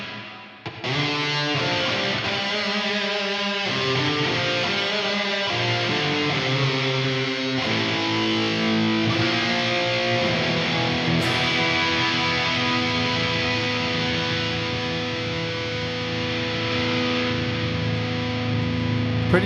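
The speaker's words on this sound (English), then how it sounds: "We've got a reverb. This is the mix of the reverb." Electric guitar played through a reverb effect on an IK Multimedia TONEX pedal, a steady, full chordal tone with sustained, washy tails that carry on continuously and loudly without any talking.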